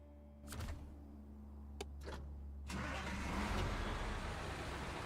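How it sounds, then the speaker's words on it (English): A truck in a video game: a few sharp clicks and a clunk, then the engine catches and swells into a steady, louder running roar that holds to the end, with no voices. "I think this truck should be capable of going up there."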